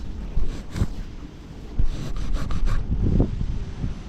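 Gusty wind buffets the microphone with uneven rumbling and rustling, rising and falling over a few seconds, with no clear voices.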